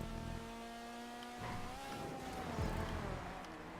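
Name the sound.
cars racing and overtaking in the video game GTA 5 Online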